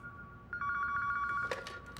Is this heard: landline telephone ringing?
yes